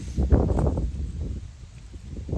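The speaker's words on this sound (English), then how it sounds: "got windy right there." Steady outdoor wind noise rumbling and rustling close to the microphone, gusting a little louder at the start and easing off toward the end.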